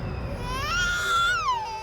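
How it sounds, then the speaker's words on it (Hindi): An infant cries in a TV crime drama scene, a single sustained wailing cry rising then falling over a low background rumble, fairly close and loud with no talk. "बच्चे की रोने की आवाज?"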